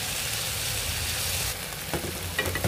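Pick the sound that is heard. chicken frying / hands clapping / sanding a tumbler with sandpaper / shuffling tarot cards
chicken frying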